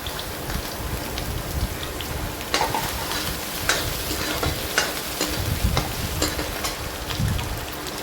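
Cumin, ginger and garlic roasting in a pan for curry, with steady frying and crackling, scattered sharper pops and stirring scrapes throughout, no voices.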